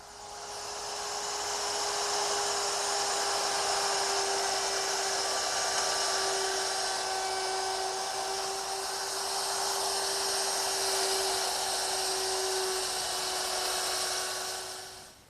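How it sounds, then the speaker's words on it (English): An overarm router with a round nose bit plows flutes into a wooden chest piece, running as a steady, loud high-pitched whine that holds evenly for about fifteen seconds before tapering off, with no one talking. "now I'll just lower the router in and plow out the material"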